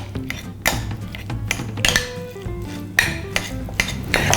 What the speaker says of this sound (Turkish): Şimdi bunu şöyle güzelce bir karıştırdım